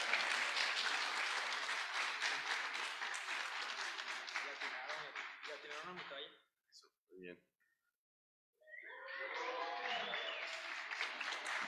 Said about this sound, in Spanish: Un aplauso para el maestro, por favor.